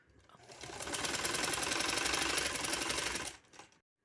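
Sewing machine running steadily as it stitches lace along a line on a dupatta, a fast even rattle that builds, holds for about three seconds, then slows and stops with a brief final burst.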